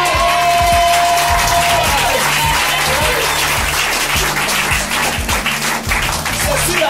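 A church congregation applauds and cheers during a sermon, giving loud, dense clapping that carries on for several seconds, with rhythmic percussion and a few shouts mixed in.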